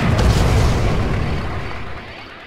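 A missile launch explosion from the strategy game Red Alert 2 hits as a loud, deep, rumbling boom that lingers and slowly fades over about two and a half seconds.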